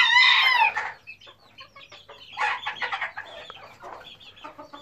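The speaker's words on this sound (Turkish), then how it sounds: "Bu horozlarım." Roosters in a backyard flock give a loud close crow, followed by a run of clucks and short calls, with quieter clucking trailing off near the end.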